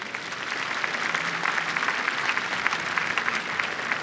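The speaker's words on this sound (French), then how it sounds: "je vous demande d'applaudir" A large audience applauds a Nobel physics laureate at a French innovation event, a steady wash of clapping from a big hall, even and continuous, with no talk.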